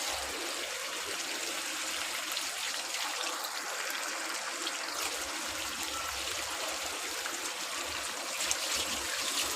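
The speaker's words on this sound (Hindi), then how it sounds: "मैं ये वाले 3 गिलास शोरबा शामिल कर रहा हूँ।" Water streams steadily into a pot of desi chicken shorba with turmeric and black pepper, three glassfuls in a continuous close pour that trickles and gushes alone without pause.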